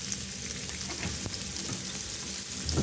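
Diced onions sizzle steadily in hot oil left over from frying boiled eggs for a masala egg curry, a dense continuous crackle with occasional stirring clinks, close and alone.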